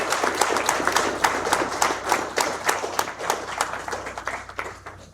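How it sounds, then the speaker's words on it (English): An audience applauds at the close of a malware talk at a DC704 security meetup: dense, steady clapping from a room of people, fairly close and even, easing slightly toward the end. "And round of applause."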